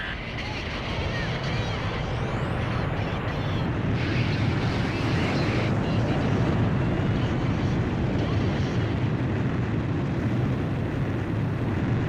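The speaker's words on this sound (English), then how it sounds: "Aircraft launch confirmed." A fighter jet is catapulted off an aircraft carrier's deck in Ace Combat 5: a loud, continuous roar of jet engine and rushing wind that builds and holds steady, with a brief whine sweeping upward early on.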